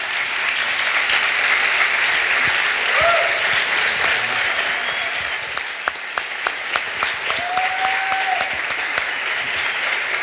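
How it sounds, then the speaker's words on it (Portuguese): A studio audience applauds guests of a Christmas special podcast episode, sustained clapping from a sizable crowd over ten seconds with brief whoops and a few sharper nearby claps, some voices mixed in. "Quero uma salva de palmas para esses nossos convidados."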